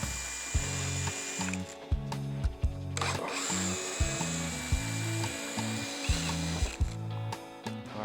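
A power driver spins out T20 or T25 Torx screws from the windscreen of a 2023.5-or-later Harley Road Glide. It gives short bursts of repeated whirring and ratcheting, close and loud, with brief clicks between them.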